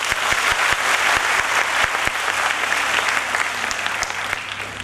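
An audience at a talk breaks into loud, sustained applause, dense clapping close by that fades slightly toward the end.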